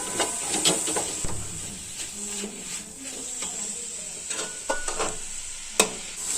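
Capsicum being stirred into chicken masala in a pan, with steady scraping and stirring strokes over a soft sizzle and a few sharper utensil clicks, close and moderately loud.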